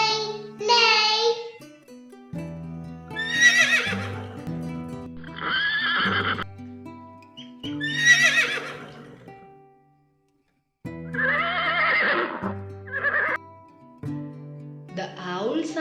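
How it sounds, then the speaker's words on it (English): A horse neighs repeatedly, with loud, wavering whinnies coming in separate bursts between stretches of a person speaking. "The horse sounds as neigh, neigh, neigh."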